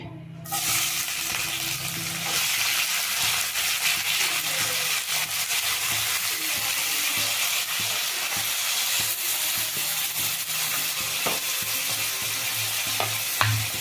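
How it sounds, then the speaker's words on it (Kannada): Onions hitting hot oil in a pan and frying, a loud, steady hiss and sizzle with stirring and scraping throughout, close up and without speech. "ಈಗ ಇಲ್ಲಿ ಎಣ್ಣೆ ಕಾಯ್ದ ಕಾದಾಗಿದೆ ನಾನು ಈರುಳ್ಳಿ ಹಾಕ್ಕೊಳ್ತೀನಿ"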